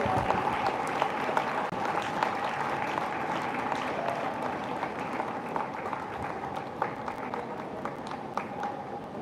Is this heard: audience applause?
yes